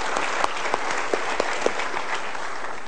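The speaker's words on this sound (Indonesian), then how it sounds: "kita berikan tepuk tangan" A seminar audience at a motivational talk show bursts into steady, dense applause, close and full, with a few sharper individual claps standing out.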